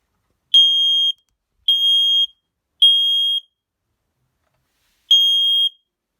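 An electronic smoke alarm sounding its test signal, a piercing high-pitched tone in three evenly spaced half-second beeps, a pause, then a fourth beep, loud and alone.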